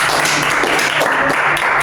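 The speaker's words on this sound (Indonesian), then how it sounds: "Beri tepuk tangan untuk semua" A class of students bursts into dense, continuous clapping, loud and close, filling the short stretch without any voices on top.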